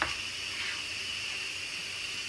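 Steam hissing from the pressure valve of an Instant Pot while cabbage soup cooks, a continuous broad airy hiss at an even level, alone and fairly close.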